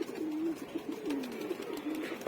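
Domestic pigeons coo softly nearby in a loft, a few rolling, throaty calls repeating over quiet background sounds.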